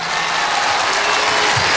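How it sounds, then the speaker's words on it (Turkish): A large outdoor concert crowd in Turkey claps loudly in a dense, continuous wash of applause, close and full for the whole stretch, with no talking standing out above it. "bir kocaman alkış rica ediyorum"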